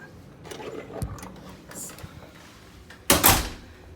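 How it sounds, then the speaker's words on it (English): A hotel room door at Animal Kingdom Lodge Kidani Village closes with a solid thud near the end, after a few quieter bumps and faint room noise. "Let me shut the door"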